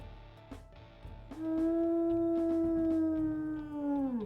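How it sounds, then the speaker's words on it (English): A wolf in the video game WolfQuest gives a single deep, sustained howl that rises in and holds steady for a few seconds, loud and clear after some quieter game ambience. "Ooh, a very pretty deeper howl"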